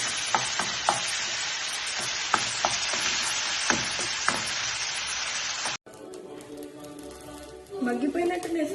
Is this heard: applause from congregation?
no